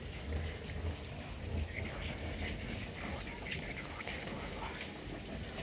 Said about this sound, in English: it's January 11th, storming.